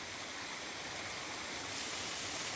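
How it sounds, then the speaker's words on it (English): Small waterfall, Mountaineer Falls on the Appalachian Trail, with a modest flow giving a steady hissing rush of water, even and moderately close, with no voices. "Not a lot of water rushing down there"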